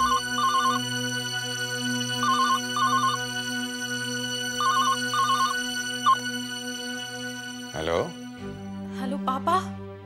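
A telephone rings in repeated electronic bursts over a steady hum at night, then voices and other sounds cut in near the end.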